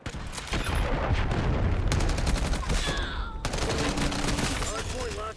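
Archangel missile scorestreak firing in a Call of Duty match, a dense barrage of rapid explosive launches and booms that stays loud and continuous, layered with gunfire and game voice callouts.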